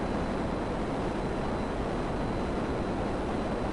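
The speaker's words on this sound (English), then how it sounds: "And there's a jet again." A jet aircraft flies past in the game GTA, heard as a steady, even, broadband roar that holds at the same loudness throughout, with no talking.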